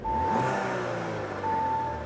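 Audi Q5 engine after a turbocharger replacement, revving briefly while stationary, a steady mid-pitched engine tone with a faint whine, heard alone at moderate distance.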